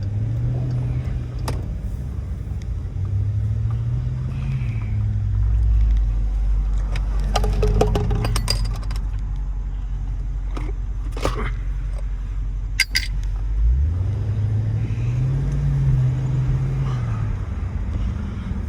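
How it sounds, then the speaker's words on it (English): A Cadillac Escalade rolls past on a street outside an Apple store, its engine rumble and tire noise swelling and fading, with another vehicle passing later and brief clicks and jangles near the microphone. "Escalade came out of nowhere."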